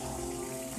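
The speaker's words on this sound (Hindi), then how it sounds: "उसके बाद इसमें पानी डाल दें" Water poured into fried masala in a pan for green chickpea pulao, a steady close splashing wash that runs the whole moment without any talk.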